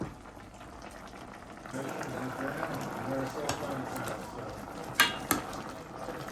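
Chicken and mixed vegetable soup coming to a boil in a pot, giving a low, steady bubbling with a couple of sharp clinks near the end, partly under a woman's speech.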